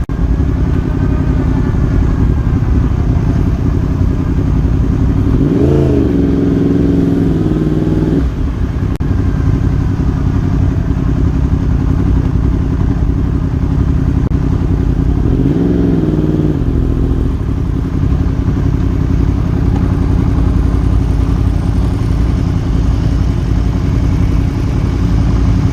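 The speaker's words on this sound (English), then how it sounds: "That's a Ducati 748 with a dry clutch. You can hear the chatter." A Ducati 748 sport bike with a dry clutch idling at a racetrack, a loud continuous engine drone with a rattling clatter, and two brief revving swells rising over it.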